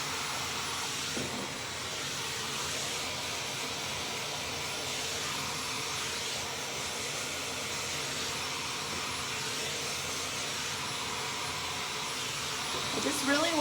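A hair dryer fitted with a diffuser blows a steady, continuous whoosh while drying curly hair, running loud and unbroken throughout with a faint voice beneath it.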